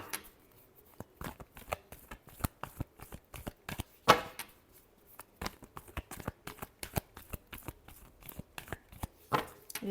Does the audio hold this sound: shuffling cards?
yes